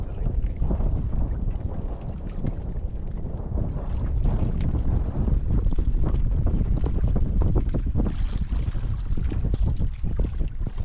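A strengthening amihan northeast monsoon wind roars steadily and loud against the microphone, a dense, rumbling buffeting that never lets up, with faint water splashing mixed in.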